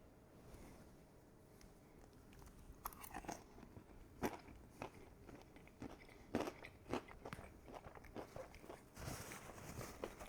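Someone bites and chews dry-rub chicken wings from Wingstop in the Mexican Street Spice flavor, giving close, crisp crunches in irregular bursts with quiet gaps between them.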